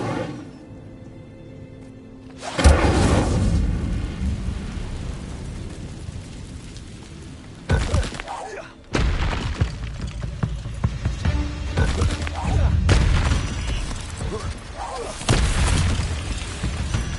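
The Incendio fire spell cast in Hogwarts Legacy: a loud whooshing, booming roar of flame bursting out, cut off and repeated in long roaring blasts with spoken words.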